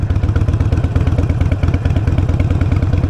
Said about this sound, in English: Go ahead and slowly start to ease up on that clutch until it's going.